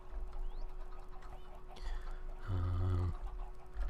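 Chickens in a Minecraft chicken farm cluck in short, faint calls, one brief louder squawk near the end, against a low steady background hum.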